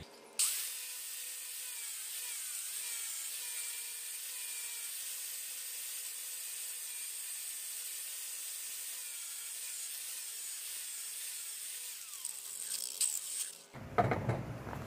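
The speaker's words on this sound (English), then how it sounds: "going to take my flap disc and run over the cutting edge on those real quick, just knock the paint off basically" Flap disc on a grinder knocking paint off the cutting edges of Predator mower blades for a John Deere G15, a steady high-pitched whine held for about thirteen seconds before a brief clunk as it stops.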